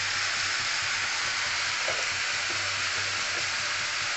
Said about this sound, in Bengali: সবজিটা একটু ভাজে নিচ্ছি